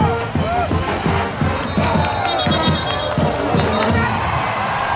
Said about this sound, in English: a big crowd here at the game.